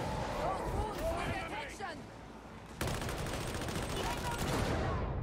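Gunfire from Warhammer 40k: Darktide gameplay, with a sniper firing from above, a dense crackle of shots and combat noise running under excited player chatter throughout.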